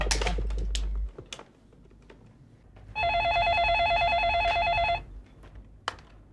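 A phone being dialed to call a neighbour's home in an Indian household: a few sharp clicks and taps, then a steady two-second electronic ringing tone that stops abruptly, followed by quiet room noise.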